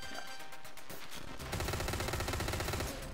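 Enemy gunfire in the Hotline Miami video game, a loud rapid stream of automatic shots that grows denser and heavier halfway through, continuing steadily to the end.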